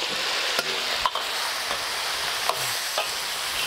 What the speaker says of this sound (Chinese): 大火把鸭肉给它爆炒几分钟